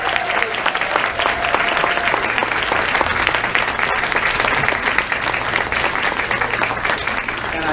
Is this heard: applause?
yes